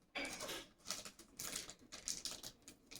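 Playing cards shuffled during a tabletop session of the Sorcery: Contested Realm card game, a rapid run of crisp riffling clicks and flutters lasting a few seconds at close range, with no talk over it.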